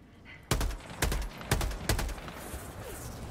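Four sharp gunshot bursts in the shooter game Helldivers 2, each a loud crack with a short rumbling tail, spaced roughly half a second apart before the firing stops and a low hum remains.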